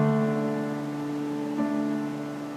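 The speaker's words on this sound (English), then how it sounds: "So we're ending up with a 3-note chord which has a D in the left hand and an A and a D in the right hand." A sustained piano chord of three notes, a low D in the left hand with an A and a D above in the right, rings alone and fairly soft, with a slight re-articulation partway through.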